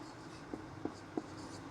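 Chalk or marker taps and strokes on a board during a lesson, three soft, evenly spaced marks under a steady room hum.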